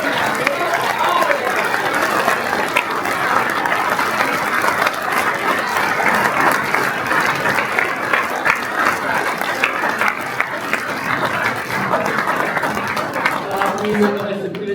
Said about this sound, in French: on peut applaudir comme elle le mérite, Carmen Rueda de Madrid